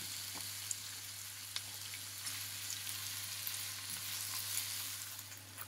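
Ground beef sautéing in a pan while being broken apart, a soft continuous sizzle with faint scraping stirs, quiet and close, no talking.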